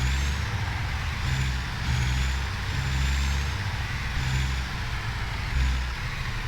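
Truck backing a trailer in American Truck Simulator, with a steady low diesel drone and faint repeating reversing beeps, continuous and close, with no talking.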